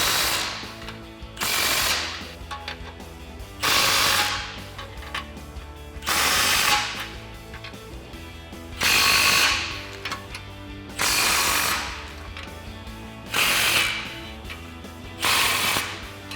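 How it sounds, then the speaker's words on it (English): A ratchet with a 15mm socket tightens exhaust clamps on a 2015-2023 Mustang EcoBoost cat-back system, sounding as loud rapid clicking bursts that repeat about every two seconds, with short pauses between them. "we'll tighten up all of our clamps using our 15mm socket"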